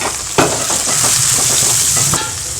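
Tomatoes dropped onto sautéed onions for brinjal sambar, a loud close sizzle with a sharp splatter burst at the start and steady frying crackle throughout, no voices.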